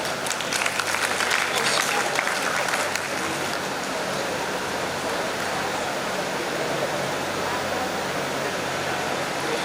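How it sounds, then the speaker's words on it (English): Audience applause at a college forum installation ceremony, a dense steady patter of many hands clapping throughout, loudest in the first few seconds and then holding even. "Can we please have a round of applause?"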